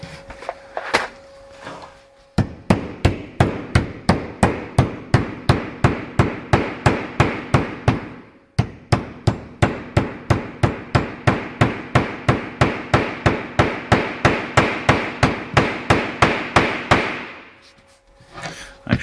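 Rapid, steady hammer blows drive nails through plywood panels being fixed to a garage ceiling, dozens of loud sharp knocks in two long runs separated by a brief pause, close and with no talk.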